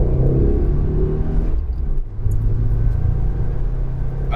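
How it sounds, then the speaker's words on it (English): A stock turbocharged car accelerates on a road, its steady low engine rumble and whir holding throughout with a brief dip midway before pulling again, heard from inside the cabin. "don't know if you can hear the turbo sound through the camera, but it is so nice"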